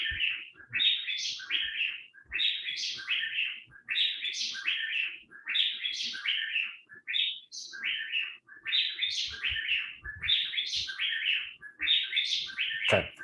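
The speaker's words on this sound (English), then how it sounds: "it shows you 3 different birds singing" Bright, chirpy birdsong repeats in quick phrases again and again, several birds trilling close by with hardly a pause between bursts.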